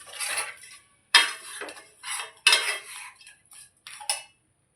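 Toor dal mixed with jaggery is stirred in a metal pot, a spoon scraping and clinking against the sides in several short bursts separated by pauses. The sound is close and clear, and no one speaks.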